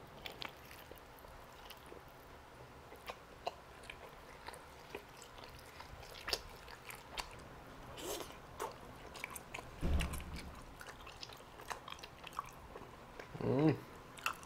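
Grilled Hawaiian-style chicken drumsticks being chewed up close, with soft wet mastication, scattered crunchy bites and a couple of louder bursts, against a quiet room.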